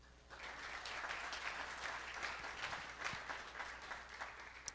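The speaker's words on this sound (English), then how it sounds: "let's give a big round of applause to them for their support" An audience at an evening community event in a university hall breaks into sustained applause, a dense, even wash of many hands clapping that starts after a brief quiet moment and holds steadily.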